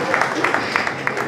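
Scattered claps at a book launch function in a hall, light and uneven, with a few sharper hand claps standing out under ongoing chatter and crowd noise.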